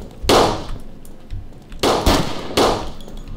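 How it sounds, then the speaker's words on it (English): Gunshots from a motel in the zombie game Fort Zombie, three sharp loud cracks about a second apart, each with a short ringing tail, with no voices. "Those gunshots we're hearing are coming from that little motel right there"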